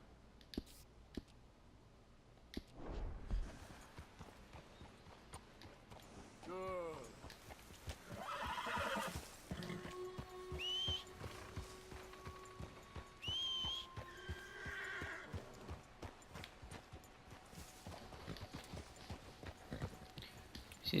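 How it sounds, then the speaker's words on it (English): Horse hooves clip-clop steadily while riding in the video game Red Dead Redemption 2, with a couple of distinct neighs and whinnies rising over the gallop and a few whistles; a voice talks intermittently. "I'm riding this rando dude's horse while having mine follow."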